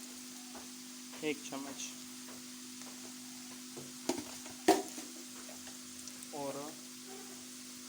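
Kashmiri red chili stirred and frying in a pan for pumpkin curry, a soft steady sizzle with occasional spoon scrapes and clinks, while a person talks over it.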